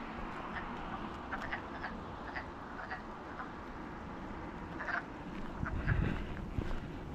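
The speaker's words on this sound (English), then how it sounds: "Frogs are chirping it up. It's mating season." Dense outdoor night ambience full of overlapping croaking and chirping frogs, steady throughout with a few louder calls standing out near the end.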